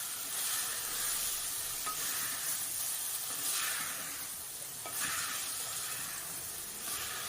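Brinjal and potato pieces sizzle and hiss in a hot pan while being sautéed for a South Indian chickpea kulambu, a steady quiet frying crackle with occasional brief stirring scrapes.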